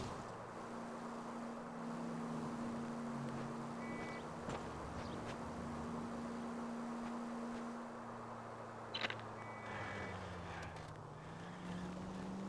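A period car driving in the video game L.A. Noire, a steady engine drone with a sustained hum that dips and shifts in pitch near the end, plus a few faint clicks over the road noise.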